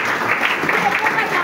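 A church congregation bursts into applause acclaiming Jesus, a brief, loud, steady wash of clapping mixed with voices calling out.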